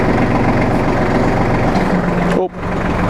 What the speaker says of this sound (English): It's a stick shift tractor. It's got 12 gears.